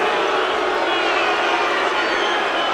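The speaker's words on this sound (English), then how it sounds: "Crowd obviously not happy." A basketball arena crowd roars in disapproval during a college game, a dense, loud, sustained wash of voices filling the hall without a break.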